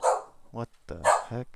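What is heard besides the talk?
dog barking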